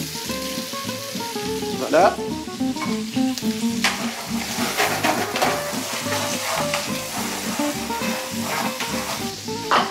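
Cauliflower frying in melted butter, a loud continuous sizzle with stirring scrapes and occasional pan clatter close by, a voice speaking briefly over it.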